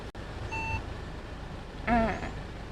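A Mercedes GLA200 shifted into reverse sounds a short electronic beep tone, then a second warbling chime a moment later, both clear over a low, steady cabin hum.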